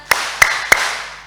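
Three sharp hand claps spaced evenly about a third of a second apart, ringing in a reverberant church hall as a congregation claps along to a sing-along song at a Sunday service.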